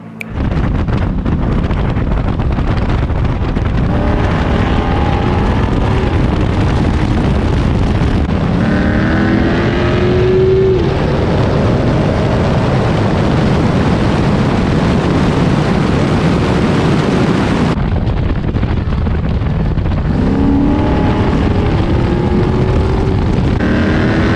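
A 1969 Camaro drives hard on a road during a race toward Mexico: a loud, continuous engine roar with revs climbing repeatedly through the gears, close-miked under heavy wind buffeting, with no talking.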